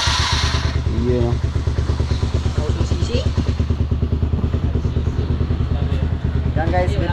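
A Honda CBR150 motorcycle engine, started with its starter motor, runs with a steady rapid chug, close by, while voices talk briefly over it.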